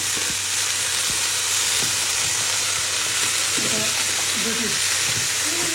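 Ready-cut packaged carrots sizzle steadily in a hot frying pan with a continuous loud hiss, and occasional stirring clinks and a brief voice surface underneath.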